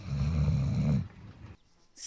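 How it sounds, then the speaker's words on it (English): A dog asleep in a tent while camping in Himachal, India, snores with one long, loud, low rumbling breath that fades into near silence. "And in no time, Pari started snoring."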